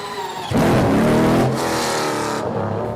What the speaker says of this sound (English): The sound of that engine setup is insane.